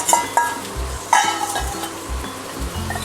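Shredded cabbage and carrots sizzle steadily in a hot pan while a utensil stirs and scrapes in intermittent clinks and thumps, close up with no voices.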